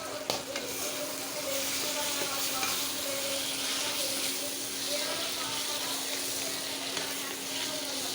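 Drumstick curry frying in a pan after chili powder is added, a continuous close sizzle and hiss of oil with light stirring scrapes, steady and moderately loud throughout.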